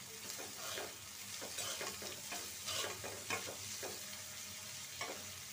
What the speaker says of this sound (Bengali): তেল গরম হয়ে গেছে, দিয়ে দিচ্ছি পেঁয়াজ, কাঁচামরিচ